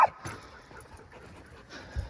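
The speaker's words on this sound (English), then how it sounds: "sorry about all the dogs." Dogs yip, whimper and pant close by outdoors beside an old wrecked 1968 Dodge Coronet, with short sharp bursts scattered over a quiet background.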